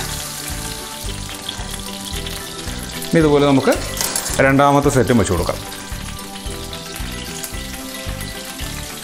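Prawns frying in oil in a pan, a steady close sizzle running throughout while a person talks over it in the middle.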